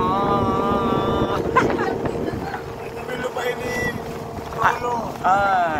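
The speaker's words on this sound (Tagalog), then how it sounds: "medyo naririnig ko yung aquaboat natin" An aqua boat ride on open water near San Antonio, Calatagan, Batangas: wind buffets the microphone over a low hull and engine rumble, while people talk and call out over it.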